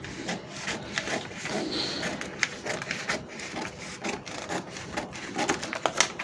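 Scissors snip through fabric while cutting out flare shorts, a quiet series of irregular crisp cuts and rustles close by, with brief handling noises between snips.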